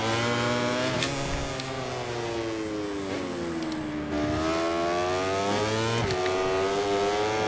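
Motorcycle engine in MotoGP 24 on a lap of the Jerez track, a loud continuous high-revving whine rising and falling through gear changes, with brief dips and surges around shifts, no talk.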